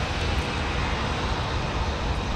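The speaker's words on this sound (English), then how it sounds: "Delta 377 to Anchorage is lined up with runway 12 right." Delta airliner lined up on the runway at MSP airport, a steady broad jet engine roar held at constant level throughout, fairly near.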